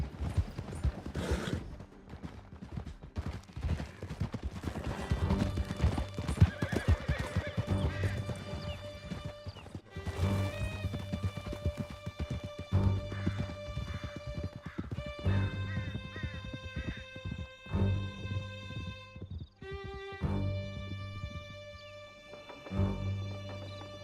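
Horses gallop in the Red Dead Redemption 2 video game, their steady clip-clop hoofbeats and an occasional whinny running under a loud, continuous orchestral score with no speech.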